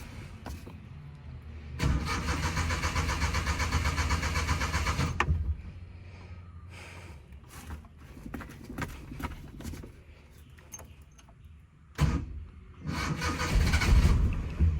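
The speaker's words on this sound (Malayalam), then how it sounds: "ഇനി നമുക്ക് വണ്ടി ഒന്ന് സ്റ്റാർട്ട് ചെയ്ത് നോക്കാം" A 24-year-old abandoned super car's engine is cranked in a long grinding burst, then after quieter clattering and knocks it tries again and rumbles up more loudly near the end.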